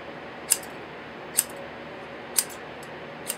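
Freshly sharpened 8-inch bevel-edge scissors snip four times at roughly one-second intervals, each cut a crisp, bright metallic click over a faint, quiet room background.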